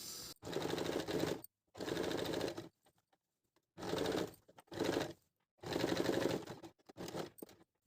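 Electric sewing machine stitching the crotch seam of a woolen salwar, running in five loud bursts of rapid even stitching separated by short pauses, close and alone.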